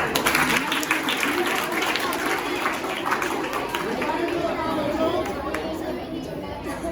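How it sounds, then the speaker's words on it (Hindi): A school audience, gathered for a Hindi-language talk on police and defence careers, breaks into sustained applause mixed with children's chatter, loud and continuous throughout. "जिन्होंने भी एकदम दिल से बोला उनके लिए तालियां।"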